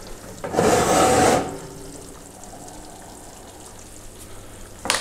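Carp dish with potatoes bubbling and sizzling in an oven at around 200 to 220 degrees, a loud burst of boiling hiss for about a second, then a quieter steady bubbling.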